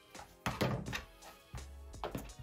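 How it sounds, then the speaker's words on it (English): Muffled booming thumps come through the ceiling from kids dancing upstairs, several dull irregular impacts heard at a distance in a quiet room. "If you hear booming, my kids are having a dance party upstairs, apparently."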